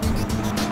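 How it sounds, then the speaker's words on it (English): A car pulls up nearby, its engine and tires making a brief, loud, steady rumbling whoosh with no voices over it. "I hear a car."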